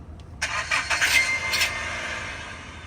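A taxi car engine turns over and catches about half a second in, then settles into a steady idle as the vehicle prepares to pull away on a Kyiv street. No talking is heard.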